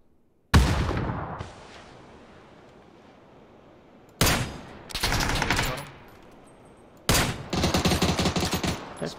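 Gunfire in PUBG on the Vikendi map, three separate loud bursts of automatic fire, the first a sharp blast with a fading tail and the later two rapid rattling volleys, close with quiet gaps between.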